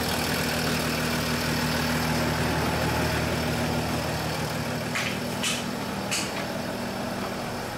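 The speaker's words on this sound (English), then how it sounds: "Let's turn off the engine." A Mercedes/Dodge Sprinter van engine idles with a steady low rumble and constant hum, jumper cables connected for an alternator electrical fault, and a few brief hissing bursts cut in near the end.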